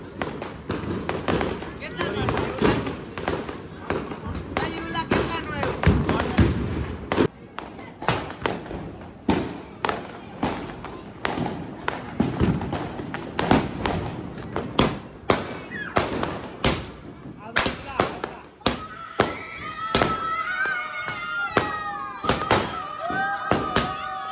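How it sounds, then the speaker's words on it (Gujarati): Diwali firecrackers go off in a loud outdoor barrage of sharp, closely spaced bangs and thuds that keep coming for the whole stretch, then turn into whistling, screeching shots near the end, with voices underneath. "જો અત્યારે આવડા ફટાકડા ફોડું"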